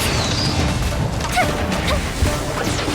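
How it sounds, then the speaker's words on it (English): A fireworks explosion effect from the video game Genshin Impact makes a loud, sustained crashing blast with booming impacts that fills the whole moment, with no clear talk. "Here come the fireworks!"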